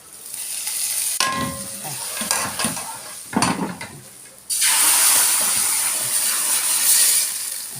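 Garlic tasha topping for mallow stew frying in a pan, a loud steady sizzle with scrapes and clinks of stirring, swelling sharply near the end as the hot oil and garlic hit.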